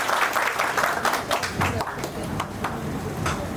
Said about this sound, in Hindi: और जोर से ताली बजाएं। अरे न्यू फैकल्टी तेज ताली बजाओ भाई।